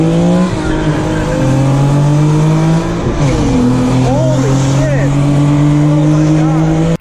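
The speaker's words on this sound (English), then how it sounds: "I have seen a video of a Accord V6 coupe racing a G37 coupe" A Honda Accord V6 coupe and an Infiniti G37 coupe race, with loud engines revving through rising gear pulls, a tire squeal and a shift near the midpoint, and the car sound continuous throughout.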